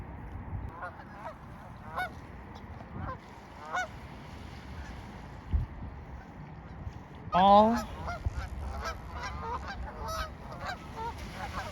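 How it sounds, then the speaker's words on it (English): Canada geese honking at a distance over steady outdoor background noise, scattered calls building to a louder burst of honks midway. "So this is all Canadian geese."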